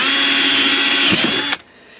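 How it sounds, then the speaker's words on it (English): A loud, high whining drill bores holes in the bottom of metal ammo cans, running steadily at close range, then cuts off abruptly, leaving quiet room noise. "it looks like to drill holes in the bottom of the ammo cans"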